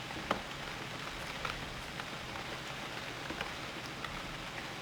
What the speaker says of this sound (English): Tired of hunting in the rain.